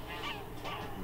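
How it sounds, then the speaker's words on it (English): Canada geese at Brandon Marsh honk in a brief series of nasal calls from a little distance, over soft marsh background. "We've also got Canada geese,"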